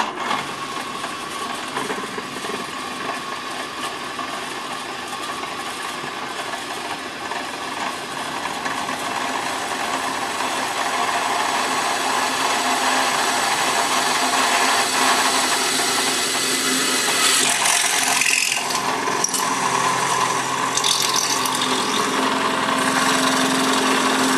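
A drill bores rear trunnion rivet holes with a 5/32 bit during an AK47 build, a steady loud whirring grind that runs continuously and builds slightly in intensity, with no talking.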